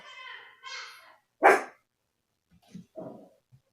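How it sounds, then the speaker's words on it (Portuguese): Several dogs at home: one gives a sharp bark between stretches of high, strained vocal sound, followed by a few faint yips and whimpers. "que pausar porque a cachorrada começou aqui em casa."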